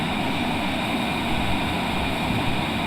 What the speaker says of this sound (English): Take the brakes off, full power.